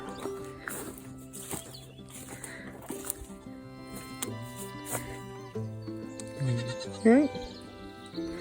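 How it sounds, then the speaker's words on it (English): Young goat kids on a Welsh smallholding give several short, high bleats near the mic, with music playing behind them. "There's the little goat kids, they're wanting to play as well."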